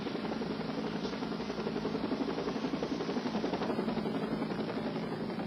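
A police helicopter's rotor thumps in a fast, steady pulse overhead, loud and continuous, with engine drone underneath.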